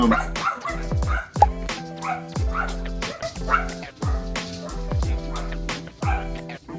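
Three pet dogs bark repeatedly in a rapid, steady rhythm, loud and close indoors, mixing sharp yips and deeper woofs with faint whimpers between barks.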